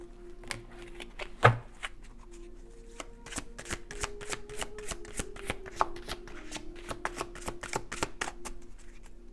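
Oracle or tarot cards are shuffled by hand close up, giving a quick series of crisp riffling clicks and flicks over a quiet room hum, with a sharper slap early on.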